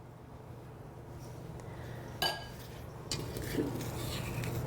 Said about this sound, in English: I'm gonna really scrape it down because why bother leaving batter in the bowl when it could be in the pan?